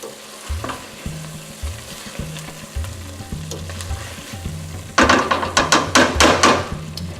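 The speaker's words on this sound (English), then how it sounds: "Let's give that a stir, and just stir that through." Chopped coriander being stirred through aloo gobi in a pan, with steady scraping and clicking strokes of the spoon over a faint sizzle. A brisker, louder run of clatter comes in the last couple of seconds.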